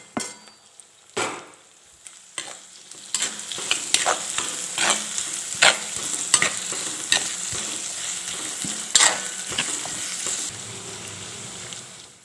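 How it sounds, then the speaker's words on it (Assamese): Chopped onion, garlic and green chilli hit hot oil with a loud sizzle and spitting crackle, broken by scraping stirs against the pan, then settling into a steady fry that fades near the end. "তেল গৰম হোৱাৰ পিছত কাটি থোৱা পিঁয়াজ, নহৰু আৰু জলকীয়াখিনি দি লৈছোঁ"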